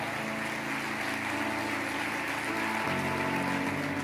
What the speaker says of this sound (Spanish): Dale un aplauso a la palabra.